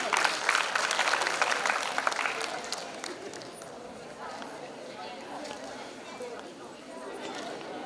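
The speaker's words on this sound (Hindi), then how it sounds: "एक बार जोरदार तालियां सर के लिए।" Conference audience applauding a doctor, loud clapping for a few seconds that tapers into chatter and scattered claps, with voices in the hall.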